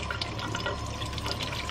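Water runs steadily while fresh mackerel are rinsed clean after gutting, a continuous close splashing flow with small drips and trickles and no talking.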